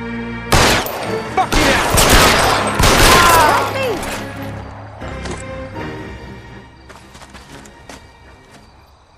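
A gunfight in the video game L.A. Noire erupts in loud, close bursts of rapid shots for several seconds, then thins to scattered, fainter single shots, with someone shouting over the opening volley.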